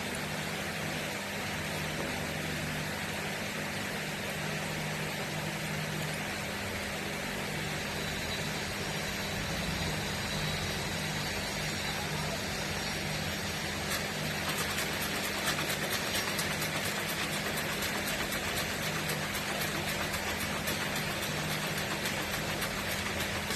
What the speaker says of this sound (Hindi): इस तरह से हमें ये बेल्ट सिल लेनी है।